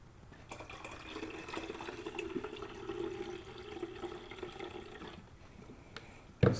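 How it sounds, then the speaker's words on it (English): Water is poured into the container of an HHO generator in a steady, faint splashing trickle that lasts several seconds, then ends with a brief knock, with no talking. "Put a little bit more water in there."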